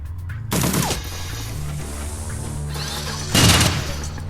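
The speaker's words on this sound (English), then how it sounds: "Stop shooting my robot." Bursts of gunfire in Shadowrun Dragonfall aimed at a player's robot, a loud volley at the start and another near the end over a low game hum.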